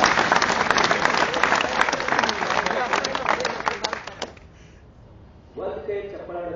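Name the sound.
audience applause, clapping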